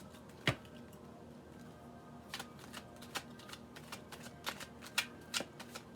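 A deck of tarot cards is shuffled softly in the hands, giving a run of quiet crisp riffles and taps, some louder snaps among them, up close in a quiet room with no talking.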